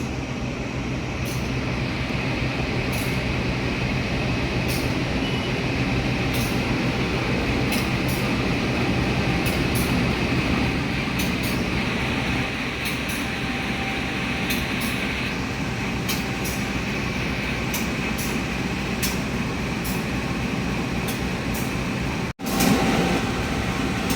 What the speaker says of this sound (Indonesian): Lokomotif Sumatera guys,